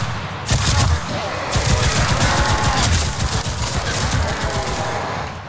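Gunfire in the WW2 shooter game Enlisted during a zombie event, loud dense bursts of rapid automatic shots crackling almost continuously, with a brief gap early on.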